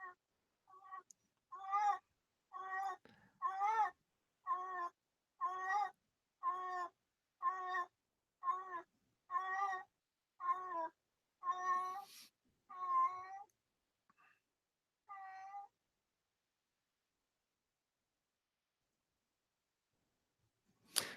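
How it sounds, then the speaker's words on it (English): A very old cat whines and meows repeatedly, about a dozen drawn-out cries in a steady rhythm, fairly close and alone, trailing off into silence. "if you're wondering what that whining is, that's my very old cat"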